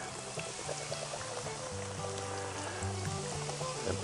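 Beer pours over corned beef and cabbage braising in a pot, a steady splashing and trickling wash that stays close and continuous for a few seconds with no talking.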